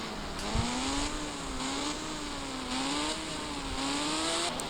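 Motorbike engine in an Indian bike video game, revving and accelerating with a steady rising and falling engine tone, loud and continuous throughout with no voices.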